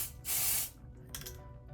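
Hairspray hisses from an aerosol can onto hair in one strong half-second burst, followed by a shorter, softer spritz in a quiet room.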